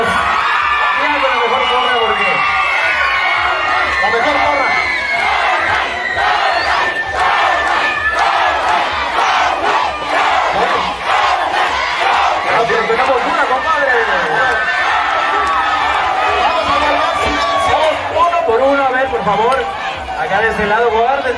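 A school cheer squad at the 2016 intercollegiate regional dance contest in Tlapacoyan chants loudly and continuously. A large crowd of voices shouts in rhythm with little pause, close and filling the space throughout.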